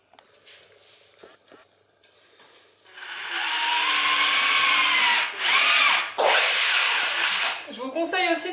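Power drill boring holes through a wooden board for a rabbit hay rack, a loud steady whine that starts after a few seconds of quieter handling, dips briefly between bursts, with faint speech early on.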